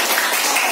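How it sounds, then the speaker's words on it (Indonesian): A short burst of classroom applause from students during a teaching session, dense, even clapping that lasts under a second. "tepuk tangan buat"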